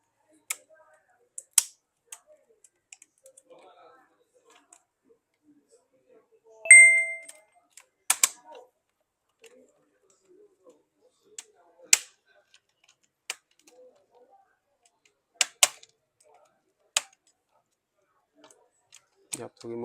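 Plastic retaining clips on an HP 14-bs077TX laptop keyboard panel being pried loose, giving sparse, sharp snapping clicks scattered irregularly across the quiet, close and fairly faint.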